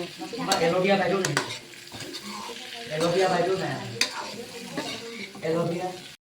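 Spiced meat frying and sizzling in a pan while being stirred, with repeated scraping and clatter of the utensil against the pot over a steady close sizzle; faint talk in the background.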